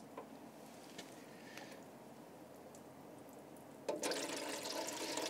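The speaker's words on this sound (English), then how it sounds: "Now, I can fill this up erratically with water" Water is poured into a small tank with a bottom outlet, heard as a faint trickle that turns into a louder, steady gush partway through.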